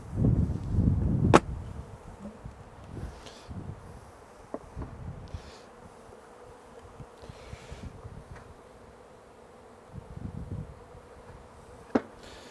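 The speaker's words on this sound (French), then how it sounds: "c'est une ruche qui est en train de se faire piller complètement" Honeybees robbing a dead, collapsed hive in late winter, with a steady close buzz and individual bees zipping past the microphone, alongside occasional handling knocks.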